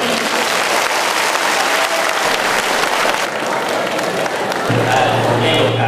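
An audience at a school farewell ceremony applauds steadily and loudly for several seconds, welcoming four teachers, the clapping holding even throughout while a low hum comes in toward the end.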